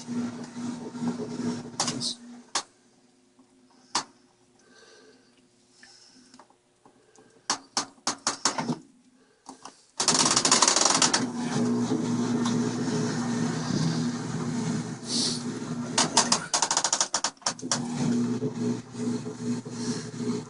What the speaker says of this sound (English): the washing machine is starting